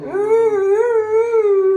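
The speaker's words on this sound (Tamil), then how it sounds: "நாய் கத்துது" A dog howls in one long, wavering, sustained cry, loud and close, with no voices over it.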